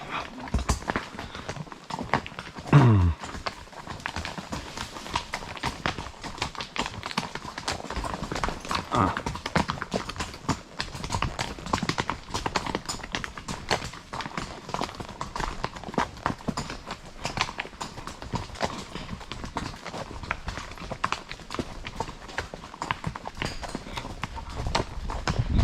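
Hooves of a riding horse clip-clop in a quick, even walking rhythm, close and continuous for the whole stretch, with a brief squeak early on and no clear talk.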